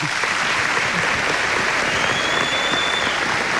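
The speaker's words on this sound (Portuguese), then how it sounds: "palmas para Marisa." A studio audience claps for a guest on a Brazilian television program, a sustained, even burst of applause from a sizeable crowd with no speech over it.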